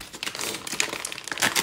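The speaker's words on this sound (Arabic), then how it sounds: "بس خليني اقطع الكيس اكثر واكثر" A plastic bag is cut open and crinkled while preparing soup, giving close, busy crackling and rustling that runs throughout with a few sharper crinkles.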